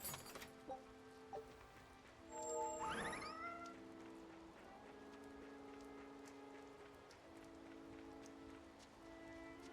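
A cat meows once, drawn out and rising, in the video game Tales of Berseria, set over a quiet musical backdrop and soft patter.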